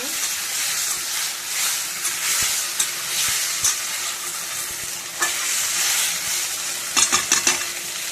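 Ginger, cumin and chilli masala fries in a pan with a steady sizzle, while a spoon stirs and scrapes repeatedly, and a cluster of quick clinks comes near the end.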